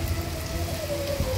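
Steady, dense rainfall hisses throughout in Puquio, with a faint tonal hum running underneath and no voices.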